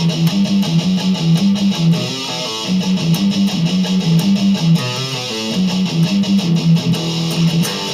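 Slow electric guitar riff, with palm-muted chugging notes and chopped chords played steadily and loud, alone with no voice, for about eight seconds.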